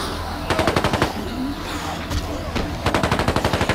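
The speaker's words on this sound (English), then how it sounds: "watch where you're shooting that thing" Video game gunfire rattles out in rapid automatic bursts, a short volley, a pause with a couple of scattered shots, then another longer burst, loud and close over a low ambient rumble.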